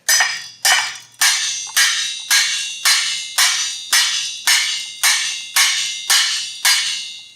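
A metal whisk striking a pot lid like a homemade cymbal, about twelve evenly spaced, bright metallic crashes, each ringing and fading before the next, close and loud.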